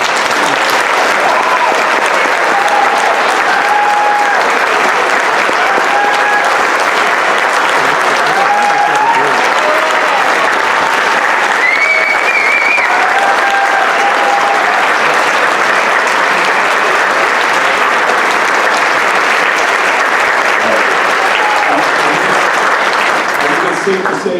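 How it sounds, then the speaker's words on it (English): Sustained audience applause fills a high school spring band concert hall, steady and loud throughout, with dense clapping and faint background voices and a few whistles rising over it. "Let's have a big round of applause for you."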